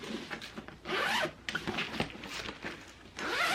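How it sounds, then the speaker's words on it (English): A delivery backpack's zipper is pulled open and shut several times in quick, scratchy bursts, close up and fairly loud, with brief pauses between runs. "Yeah, the zipper's still good."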